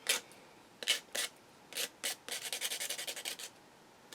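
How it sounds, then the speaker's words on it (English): A plastic spoon's edge is rubbed with coarse 80 grit sandpaper, heard as a few separate rasping strokes followed by a quick run of rhythmic back-and-forth scrapes, close and clear with no talking. "This is 80 grit sandpaper."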